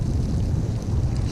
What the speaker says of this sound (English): the wind just picked up about an extra 10 miles an hour